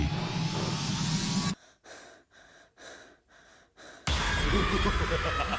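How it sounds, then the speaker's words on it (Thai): Soft, eerie breaths in a spooky Thai ghost story play alone as a few short, quiet puffs in a hushed gap between denser, louder ambience at the start and end. "เสียงหายใจเบาๆ ดังขึ้นรอบตัว"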